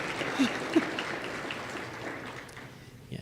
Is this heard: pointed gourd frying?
no